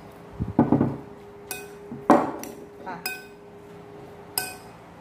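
Boiled corn and crushed tomato being mixed for Thai pounded corn salad, with scattered clinks and taps of utensil against a bowl or mortar, close and intermittent.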